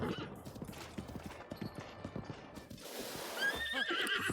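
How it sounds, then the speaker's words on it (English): A horse in Zelda: Breath of the Wild whinnies loudly near the end, following a run of steady hoofbeats from its gallop; the sounds are close and clear, with no talking. "This horse."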